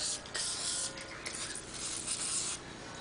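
A can of WD-40 lubricant sprays onto a part during a Morgan 3 Wheeler bevel box mount installation, giving a soft, steady aerosol hiss that runs for about three seconds at close range.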